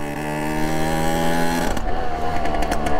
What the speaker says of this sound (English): You can hear there is a bit of a blow in the exhaust